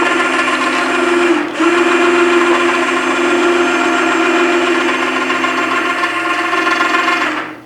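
An electric winch mounted on a 5x8 carry-on trailer and powered by a jump box runs with a loud, steady motor whine and gear hum, a brief dip early on, then continuous until it stops.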